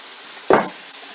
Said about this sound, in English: Mushrooms are sizzling away.